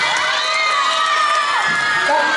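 Elementary school pupils at a classroom lecture shout and cheer together in a loud, continuous burst of high excited voices, with whoops rising over the crowd noise.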